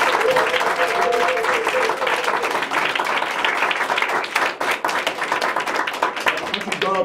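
A church congregation in a revival service claps and cheers for Jesus, dense steady applause with shouting voices sustained throughout, loud and close.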